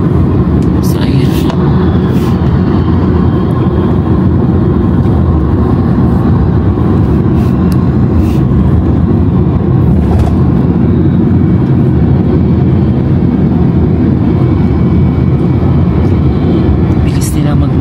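Motorbikes rush past on a road on the way to Da Nang, making a loud, continuous engine roar with heavy low rumble and passing swells, heard from close by throughout.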